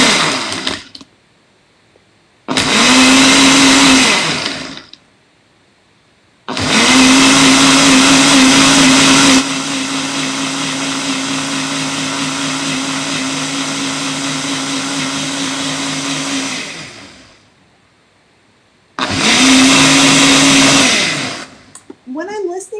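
A blender crushes ice for a green smoothie in loud, close bursts, with a long run in the middle where the motor's whine steadies, separated by short silent pauses.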